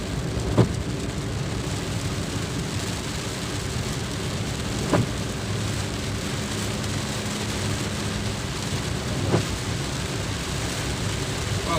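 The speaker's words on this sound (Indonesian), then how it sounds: "Wah, hujan gede nih." Heavy rain pours steadily as a dense, continuous hiss, loud and close, with a few brief sharper knocks standing out at intervals.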